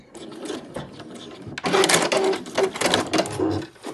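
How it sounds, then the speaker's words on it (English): Sewing machine stitching a seam on a fabric dust bag, a quiet start followed by a loud rapid mechanical whirr in short bursts. "When you get to the bottom, you want to do another back stitch just to secure that."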